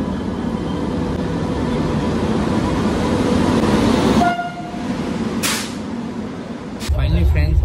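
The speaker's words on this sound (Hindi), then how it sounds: "फाइनली फ्रेंड्स हम लोग का आ गया ट्रेन" A train pulls into a railway station with a steady rumbling roar that lasts throughout, broken by a short horn-like tone and a bright squeal, with voices and platform noise around it.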